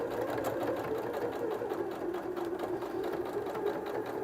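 A sewing machine runs steadily at close range, stitching around the edge of a fabric headphone holder with a continuous even whir and rapid needle chatter, uninterrupted for several seconds.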